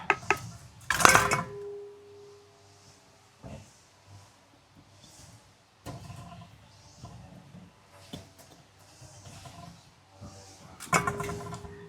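A lid is shut on a container of homemade brindle berry (kudampuli) wine, giving a sharp close clatter near the start and another at the end, with quieter handling noises and faint rustles between.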